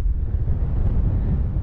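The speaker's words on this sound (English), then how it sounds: "it's a bit windy" Wind blowing hard across an open beach on the Northumberland coast, a steady low roar and buffeting against the microphone, loud and continuous with no voices.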